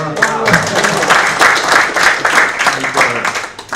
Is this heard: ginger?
no